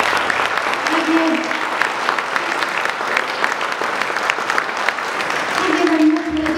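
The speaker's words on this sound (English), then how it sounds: "Can we do another round of applause?" Audience applause at a school community reading event, steady clapping filling the room for several seconds with a few brief voices underneath.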